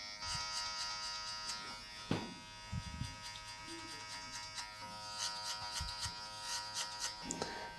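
Electric hair clippers buzz steadily as they run over the neckline during a summer buzz cut, a quiet close hum with small bumps and scrapes as the blade moves.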